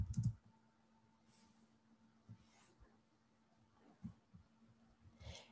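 A few sparse keystroke clicks on a computer keyboard as a command is typed into the Windows 10 Cortana search box, light and irregular over a faint steady electrical hum.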